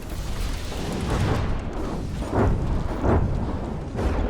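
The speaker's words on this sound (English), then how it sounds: "the missiles from the Ignis just completely wrecking it" Missiles pound a vehicle in From the Depths, a dense continuous roar of rumbling explosions with repeated heavier booms swelling every half second or so.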